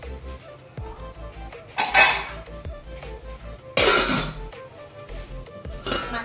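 Clattering metal and clinks as a lid goes onto a pan of bamboo shoot fish curry with tomato and salt in a home kitchen, two louder bursts of knocking and scraping over a low steady background.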